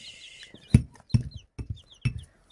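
Chickens and a rooster's brood cluck close by on a farm, with several short, loud, separate clucks spaced out over quiet gaps, plus faint higher chirps.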